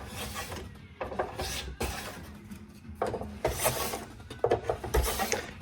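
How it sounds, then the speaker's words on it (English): A sharp scraper drags across a waxed snowboard base in repeated short rasping strokes, close and fairly loud, with brief pauses between passes. "Sharp scraper is always going to make this work that much easier."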